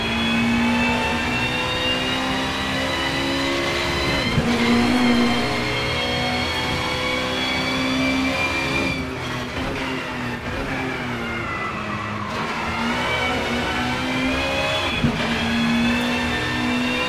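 A Peugeot 406 engine revs continuously at close range, its pitch climbing and dipping in repeated surges, loud and steady with no talking.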